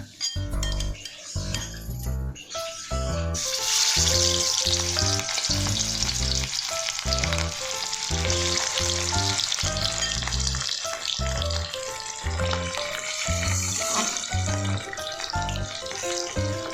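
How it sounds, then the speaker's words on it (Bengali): Katla fish pieces drop into hot oil in a wok with a few clattering knocks, then settle into a loud, close, continuous sizzle and crackle with occasional utensil clinks. "তেল গরমও হয়ে এসছে, এবারে মাছগুলো দিয়ে দেবো তেলের মধ্যে।"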